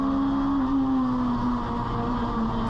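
Mazda RX-7 and Corolla race cars racing through a circuit, heard from onboard as a loud, sustained engine drone with a slight pitch drop as one car lifts and then pulls again.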